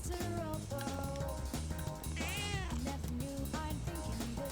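A cat meows once in the video game Persona 3 Reload, a short rising-and-falling cry heard over steady, fairly loud background music.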